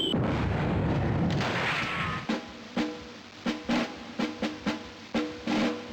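Mortar fire in the Army Men video game: after a roaring blast, a rhythmic string of about ten sharp, punchy thuds follows at close range, evenly spaced and loud.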